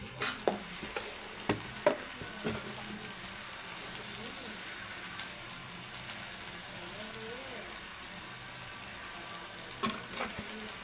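Food frying in a pan with turmeric, salt and chili powder added: a soft, steady sizzle and hiss runs throughout, with a few light clinks and a voice speaking over it.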